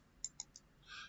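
Three quick, faint computer mouse clicks in a row, evenly spaced, followed by a soft brief rustle.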